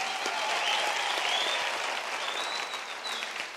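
Sustained applause from a large audience at a university graduation ceremony, a soft, even wash of clapping that tapers slightly toward the end.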